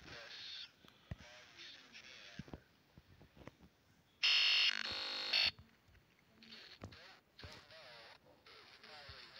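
A loud, sustained electronic beep from the game Baldi's Basics blares for about a second amid quieter background chatter and clicks.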